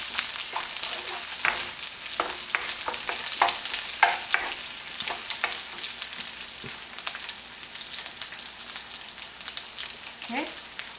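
Curry leaves fry in a pan while cooking Chicken 65, a soft, steady sizzle with scattered crackles and occasional stirring scrapes, close and fairly quiet.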